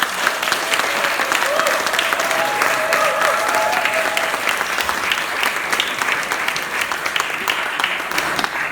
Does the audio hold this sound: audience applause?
yes